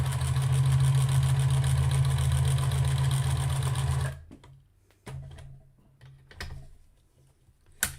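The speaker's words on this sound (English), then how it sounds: "Let's do some live sewing with my new sewing machine." A new sewing machine stitching a seam runs fast and steady for about four seconds with a dense rhythmic whir, then stops, leaving a few faint clicks and short bursts of handling in near silence.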